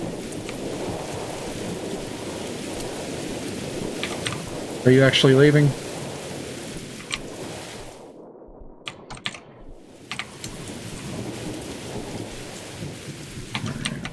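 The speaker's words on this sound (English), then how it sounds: "Looks like the storm is picking up" A thunderstorm with steady rain pours throughout, with low rumbling and a brief abrupt cutoff midway before the downpour resumes; a voice speaks briefly over it.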